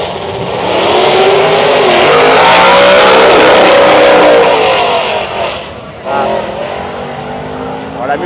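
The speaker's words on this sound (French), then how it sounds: "Alors la Mustang était en boîte méca." A manual-gearbox Ford Mustang at a drag racing event accelerates hard with a loud, sustained roar, then the note drops abruptly as a gear is missed before the engine picks back up.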